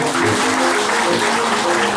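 An audience at a community arts and culture gathering claps steadily in a dense, continuous wash of applause, while a speaker talks over it through a loudspeaker.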